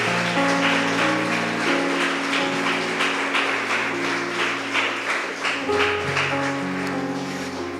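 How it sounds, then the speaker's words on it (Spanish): A congregation claps at a Spanish-language church service, a soft patter of scattered hands under sustained organ or keyboard chords that continue throughout. "Dale un aplauso a Dios esta mañana."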